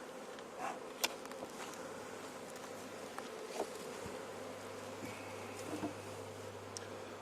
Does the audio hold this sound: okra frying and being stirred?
no